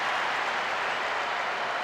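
Crowd noise from a match in the video game Pro Evolution Soccer 2006 gives a steady, loud roar of cheering and applause that fills the whole moment, with no voices on top.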